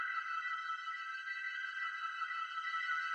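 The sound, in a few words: reverb effect at full wet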